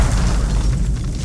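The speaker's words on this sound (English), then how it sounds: "Eventually, the water turned into steam, generating a destructive steam explosion." A loud, deep, rumbling boom fills the whole stretch, heavy with low-end energy, standing in for the steam explosion of the Chernobyl reactor.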